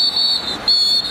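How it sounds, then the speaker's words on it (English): Sharp, loud referee whistle blasts at a college football game in a stadium, two sustained shrill tones broken by a brief gap, with crowd noise faintly underneath. "Whistles on the play, and penalty flags are flying."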